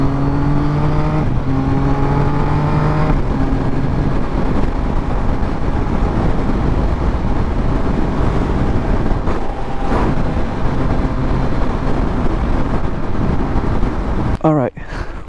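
A motorcycle engine drones loudly while riding, rising in pitch through gear changes early on before holding a steady, rough roar with wind noise, a brief higher whine near the end.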